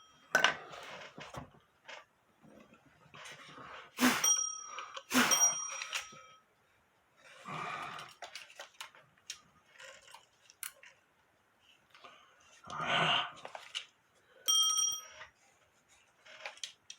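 A postman's cuckoo clock alarm gong rings in bursts of bright metallic strikes and clinks, irregularly spaced with quiet gaps between, close and fairly soft.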